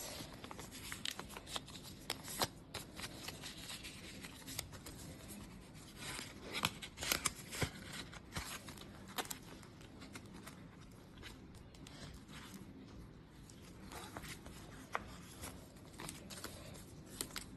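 Paper envelopes being filled by hand, soft close rustling, sliding and light tapping of paper in a quiet room, irregular and faint throughout.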